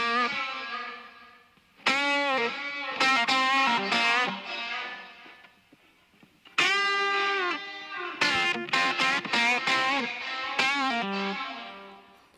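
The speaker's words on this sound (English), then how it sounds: "So we have our echo, and we do have a reverb." Electric guitar phrases drenched in echo and a long reverb tail with a wide stereo effect, two bursts of melodic notes with repeating delays trailing off, produced in Studio One, with no talking.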